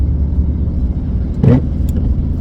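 Low, steady engine rumble and road noise from inside a car driving through quiet streets on a rainy day, with a brief louder thump midway.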